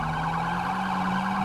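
Police car sirens wailing steadily in GTA V, several patrol vehicles sounding at once, loud and close with a continuous layered wail and no talking over it.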